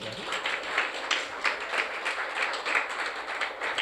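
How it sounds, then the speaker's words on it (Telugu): A church congregation claps together once on command during a sermon, producing a few seconds of dense, moderately distant applause. "చప్పట్లు కొట్టు ఒకసారి"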